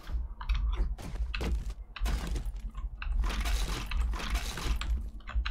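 Computer keyboard typing during a PC session of 7 Days to Die, a steady run of dense key clicks and clatter close to the microphone, with no talking.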